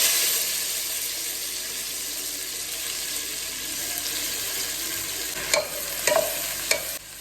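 Onions frying in hot oil in a home kitchen pan, a steady broadband sizzle running throughout, with a few sharp stirring clicks and scrapes near the end.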